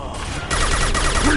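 A dense burst of rapid gunfire from the video game Mass Effect 2, loud and close, rattling continuously for about a second.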